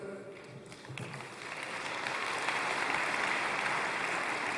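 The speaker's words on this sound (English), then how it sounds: "Well, you can applaud Esther." Applause rises from a large conference audience during a speech by Israeli Prime Minister Benjamin Netanyahu at AIPAC, starting thin with a few scattered claps and swelling into a full, sustained ovation.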